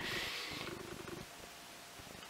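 A cat purrs on a table in a steady, close rumble with no talk, strongest in the first moment before settling into a softer, continuous purr.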